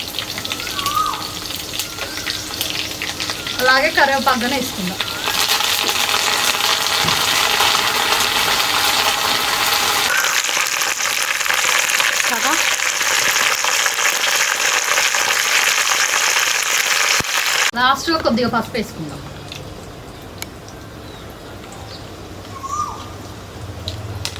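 Green chilies and cumin seeds sizzle in hot oil as a tempering for South Indian curd rasam, a loud, crackling fry punctuated by occasional metallic clinks, easing to a quieter simmer near the end.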